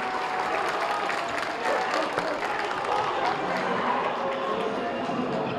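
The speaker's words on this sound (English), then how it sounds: "Listen to this crowd." Basketball game crowd in a packed gym during a boys high school matchup, a dense, steady roar of cheering and applause that fills the whole stretch with no break.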